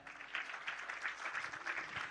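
Dense, continuous applause from a stand-up comedy audience at a Bali festival, a steady wash of many hands clapping at moderate distance.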